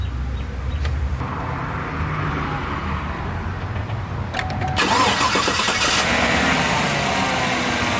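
A 2014 Chevrolet Silverado fitted with an AIRAID cold air intake starts up: a low background hum, a brief cranking, then the engine catches and settles into a steady running roar, heard from nearby.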